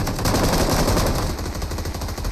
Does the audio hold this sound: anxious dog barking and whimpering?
no